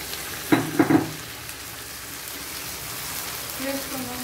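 Masala-coated prawns frying in oil are stirred in a pan for a prawn gravy, giving a steady soft sizzle with a few louder scraping stirs early on and a faint clink near the end.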